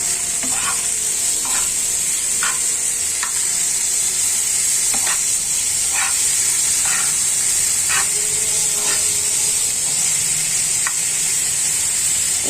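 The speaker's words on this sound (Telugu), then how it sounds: "ఇప్పుడు మనం ఉడకబెట్టిన చిక్కుడుకాయని వేసేసుకొని, ఇందాక ఉడకబెట్టాం కదా ఆ చిక్కుడుకాయ మొత్తం ఇందులో వేసేసుకొని ఇగురుగా వండేసుకోవటమే" Boiled broad beans for a home-cooked curry fry in a pan with a steady loud sizzle. A spoon scrapes and stirs them at a regular pace, close by, and no one speaks.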